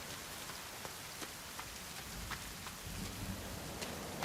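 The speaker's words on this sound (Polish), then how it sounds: "No i deszcz zaczyna padać." Rain starts falling in the survival video game The Forest: a steady, fairly loud hiss of rainfall with scattered droplet ticks, and a low rumble rising toward the end, with no speech.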